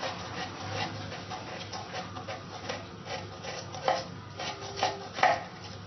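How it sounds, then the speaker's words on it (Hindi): Onion is finely chopped with a knife, a series of quick, soft taps and scraping strokes on a board, with a few sharper knocks toward the end and no voices. "इसको मैं अलग जो है वो इस तरह से बारीक चॉप कर लूंगी"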